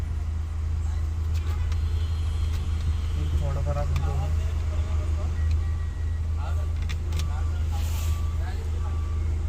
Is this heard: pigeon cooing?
no